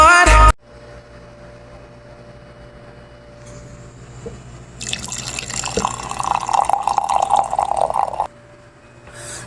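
Drinking water splashes and drips with a sharp clatter at the start, then a faint steady drip, followed by a louder stream of water being poured or running for a few seconds before stopping.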